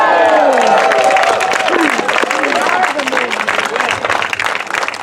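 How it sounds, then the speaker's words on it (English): A large crowd at the dedication of the Larry Itliong Resource Center erupts in loud, sustained cheering and applause, with shouting voices over dense clapping that stays full for the whole stretch, easing only slightly toward the end. "I want to hear you cheer."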